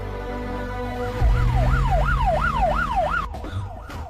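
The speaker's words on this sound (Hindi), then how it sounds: "ये तो पुलिस का सायरन है।" A wailing siren sweeps steadily up and down in repeated cycles over a low rumble of traffic, loud and fairly close.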